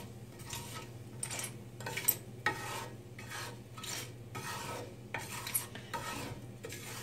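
Cumin seeds and asafoetida sizzling in coconut oil for chana masala, with a spoon scraping and stirring against the pan in repeated bursts, close and fairly quiet.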